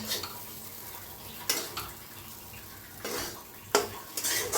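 Pithla mixture with crushed peanuts roasting in a pan, a faint dry sizzle broken by several scraping stirring strokes and utensil knocks against the pan.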